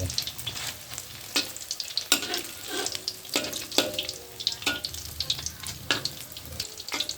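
Thai fish cakes fry in hot oil with a steady crackling sizzle broken by sharp spatters and pops, close and fairly loud, with no talking.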